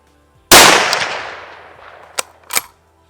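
A .350 Legend rifle fires one loud, sharp shot at a 100-yard range, its crack decaying into a long echo, followed by two short metallic clicks of the action being worked.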